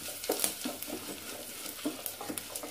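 Spices frying in oil in a pan while being stirred for a South Indian curd curry (mor kuzhambu), a soft steady sizzle with light scraping and stirring clicks, close by and quiet, no voices.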